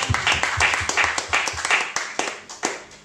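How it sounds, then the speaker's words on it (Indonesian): A church congregation claps for God during a sermon, a loose scattering of hands with a few strong rhythmic claps rising and falling, fairly close, some bursts overlapping before the clapping thins out. "Ini dulu tepuk tangan bagi Tuhan."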